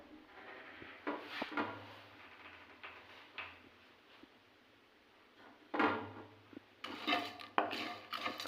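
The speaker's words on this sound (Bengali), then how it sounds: "এগুলোকে তেল না দিয়ে শুকনো কড়াতে একটু ভেজে নেব।" Cumin, cinnamon, cloves and pepper dry-roasted in an oilless wok, with light scraping and clinking of a spoon against the pan in sporadic bursts, quiet and close, growing busier toward the end.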